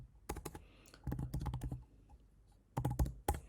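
Quick bursts of typing on a computer keyboard, with clustered key clicks in three or four short runs separated by brief pauses, close and fairly quiet.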